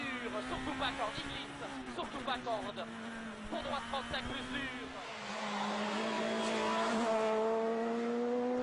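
A Peugeot 207 rally car on a stage of the Mecsek Rally in Hungary revs hard through gear changes, its engine note rising and dropping repeatedly before settling into a sustained higher wail, with a commentator talking over it throughout.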